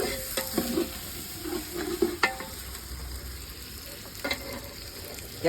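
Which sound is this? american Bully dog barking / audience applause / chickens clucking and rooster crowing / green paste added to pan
green paste added to pan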